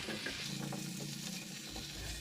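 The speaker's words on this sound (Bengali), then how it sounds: "সবজিগুলোর কাঁচা ভাব দূর করার জন্য পাঁচ মিনিট মশলার সাথে ফ্রাই করে নেব" Papaya, carrot and potato fry with spices in a pan for a Bengali chicken stew, a continuous dense sizzle heard close up, steady and fairly quiet, with a brief low rumble near the end and no speech.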